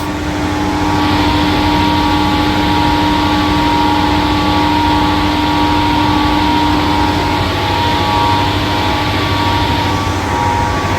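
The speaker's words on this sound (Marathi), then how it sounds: "या सर्व मोटर आहेत या मोटरद्वारे पाणी वरती टाकलं जातं" Water pump motors in a river lift-irrigation pump house hum steadily with a dense, unchanging mechanical drone and a faint tonal whine, running without pause throughout.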